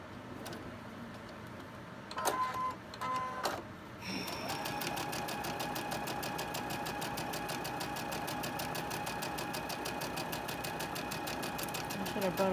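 A sewing machine stitches a fabric tote bag, first a few short bursts, then a long steady run of rapid rhythmic whirring and ticking, close up, with a person talking over it.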